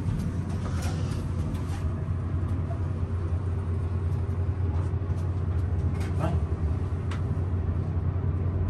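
A traction elevator runs in the machine room of The Morton in Grand Rapids, Michigan, giving a steady, close, continuous low mechanical rumble and hum with faint higher whirring throughout.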